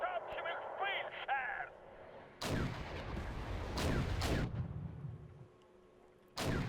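Malka artillery shells fire in Wargame: European Escalation. A voice talks first, then several heavy booms follow in spaced bursts, the last one arriving after a quiet stretch.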